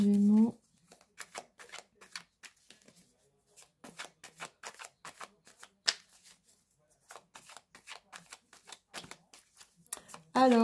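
Tarot cards are handled and shuffled in repeated quick riffles and flicks, close and fairly soft, with brief bursts of talking at the start and end.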